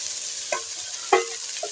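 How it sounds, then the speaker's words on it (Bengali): Cauliflower pieces fry in oil in a pan under a steady soft sizzle, with a few sharp scraping clanks from a spatula stirring them, close by and with no voices. "কফিটা নাড়াচাড়া করে আমি ভেজে নিয়েছি"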